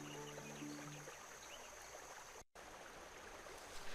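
A brook flowing in the video game The Night of the Rabbit, a faint, steady trickling wash of water with a brief musical tone fading at the start and a momentary dropout midway.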